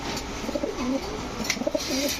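Racing pigeons coo softly in a low, throaty murmur, several repeated rolling calls over a steady background hum.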